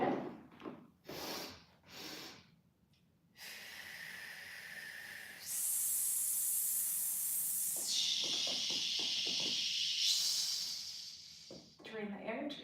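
A person doing a core workout with hands behind the head pushes out long, forceful hissing exhales, a few short sharp breaths first and then sustained rushes of air, close to the mic, with brief murmured speech at the end.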